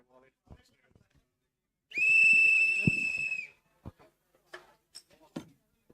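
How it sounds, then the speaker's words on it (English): A referee-style whistle shrills once in a long piercing blast of about a second and a half at a basketball game, surrounded by sparse squeaks, thumps and brief court noises. "keeps blowing the whistle in my ear"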